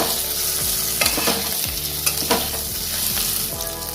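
Steady frying sizzle from a pan as paneer posto cooks, with a spatula stirring and scraping now and then, close and continuous with no talking.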